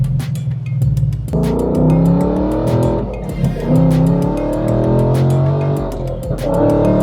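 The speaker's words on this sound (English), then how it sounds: "Such great sound that comes out of this exhaust." Loud V8 exhaust from a 2024 Mustang Dark Horse with AWE SwitchPath exhaust, rising through several rev climbs with brief dips between shifts, close and steady.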